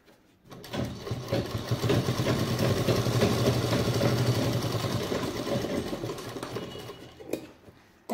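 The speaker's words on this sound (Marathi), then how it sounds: "दाब म्हणजे दाब शिलाई द्यायची।" A sewing machine runs steadily for about seven seconds, stitching fabric while making a samosa-style bag, with a continuous motor whir and rapid needle chatter. It starts and stops abruptly and no one talks.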